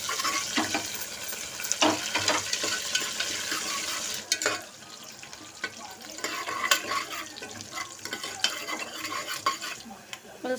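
Seasoning seeds, onion and curry leaves fry in oil for a cluster bean curry, a close crackling sizzle with repeated spoon scrapes and clinks against the pan, easing slightly midway.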